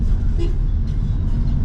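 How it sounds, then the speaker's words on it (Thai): A car horn gives a brief toot amid the steady roar of busy morning street traffic in Vietnam, the engines and road noise continuous underneath. "เสียงแตรก็คือเป็นเรื่องปกตินะคะที่จะมีการเปิด"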